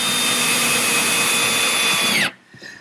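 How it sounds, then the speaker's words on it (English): A power drill pre-drills screw holes in plywood with a loud, steady high whine for about two seconds. The pitch then drops sharply as the motor stops, and a few faint handling sounds follow. "if you don't pre-drill for these screws, it can split the plywood"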